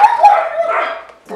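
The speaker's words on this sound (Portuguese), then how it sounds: "Dá, tem um monte de cachorro em casa." A dog barks inside a house, a couple of sharp, close yips and barks running together over about a second, loud and bright with a brief pause before a final short yelp.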